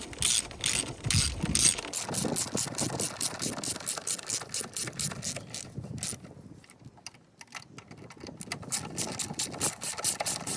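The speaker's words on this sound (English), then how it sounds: "And then we'll torque it." A torque wrench ratchets a bolt down to 40 foot-pounds during serpentine belt work on a 2001–2002 Acura MDX, giving rapid, close clicking in steady bursts with short pauses between strokes.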